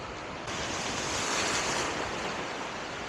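Ocean surf breaks and rushes onto the shore in a loud, continuous wash of noise, with wind buffeting the microphone and no voices.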